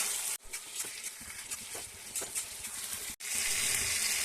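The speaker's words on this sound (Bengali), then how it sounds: "তার আগে এটাকে খুব ভালোভাবে আগে কষিয়ে নেবো।" A mixture seasoned with salt and turmeric sautés in a pan for a banana-flower dish, giving a steady close hiss of frying with faint crackles, interrupted by two abrupt near-silent cuts.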